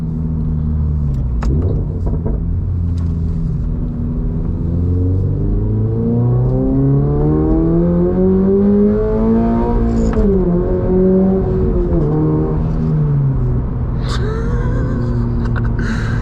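A 2024 Subaru BRZ Limited engine revs up loudly and steadily with traction control off, its rising drone sweeping higher and settling, with crackling exhaust pops near the end.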